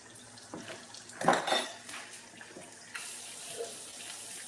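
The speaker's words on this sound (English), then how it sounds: "I'm going to add some water." Water is poured into a pot of grits in a home kitchen. Pots and utensils clatter in the middle, then a steady, fairly close wash of pouring water takes over to the end.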